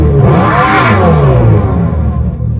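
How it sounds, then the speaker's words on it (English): A Dodge Charger Daytona EV plays a synthesized fake engine sound, a loud, rumbling, revving drone with rising and falling tones, close by and continuous for a few seconds before cutting off abruptly. "The Dodge Charger Daytona is beautiful"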